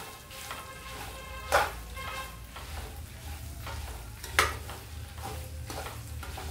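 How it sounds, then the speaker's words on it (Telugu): Red chillies fry in a hot pan with a steady crackling sizzle at close range, broken by two sharp scraping stirs. "అన్నీ వేగాలండి, వేగితే బాగుంటాయండి."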